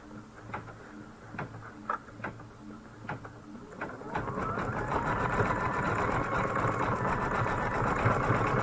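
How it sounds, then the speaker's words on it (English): Embroidery machine stitching a rocket spark design in white thread for a pillow wall hanging: a few separate clicks and thumps at first, then a steady, close, rapid mechanical chatter that runs continuously to the end. "Now let's switch to white thread on top so we can stitch out the rocket spark."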